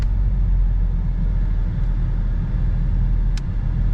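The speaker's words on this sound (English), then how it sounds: "setting off is pretty easy." Ford Mustang EcoBoost with a six-speed manual pulling away from a stop: a steady, heavy low engine and road rumble fills the cabin, even and continuous, with no voices.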